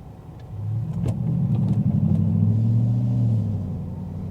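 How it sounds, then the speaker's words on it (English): A Hemi V8 car engine rumbles deep and steady in Detroit traffic, swelling into a throaty rev that holds for a few seconds and then eases off, heard from nearby with no talk. "Sound of a Hemi"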